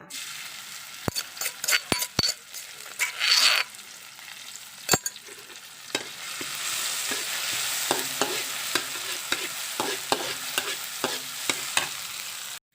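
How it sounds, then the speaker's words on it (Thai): Pounded chili hitting boiling oil for a stir-fried chicken offal dish, with many sharp spatula taps and a hissing burst early on, then a continuous close sizzle with irregular scraping clicks throughout. "น้ำมันเดือดแล้วนะคะ ตามด้วยพริกโขกหรือพริกตำเด้อจ้า"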